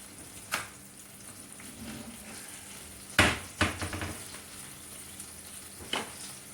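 Butter melting in a pan hisses with a faint, steady sizzle, broken by a few sharp clinks and taps of a utensil against the pan.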